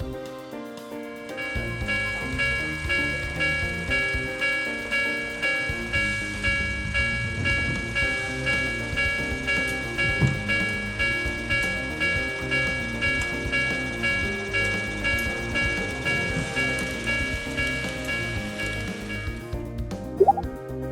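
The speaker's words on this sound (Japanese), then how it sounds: "電車は一定時間停車した後にご覧のように自動で発車します。" A small model Ikegami Line train on a city diorama runs steadily with a continuous whirring hum and rhythmic clicking of wheels over track joints, close and even throughout.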